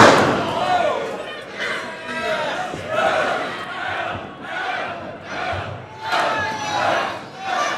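A crowd at a Clash Wrestling homecoming event roars and cheers in loud swelling waves as a wrestler charges into the corner, with occasional thuds from the ring underneath.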